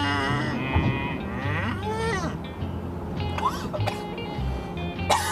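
A man imitates a cow, drawing out several low, wavering moo sounds with his voice near a real cow, amid outdoor farm background noise and brief other noises.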